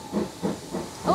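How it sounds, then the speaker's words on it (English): Bursts of steam hiss in quick pulses, like an arriving steam train at a heritage railway station, fairly close and without talk. "Oh, train's here."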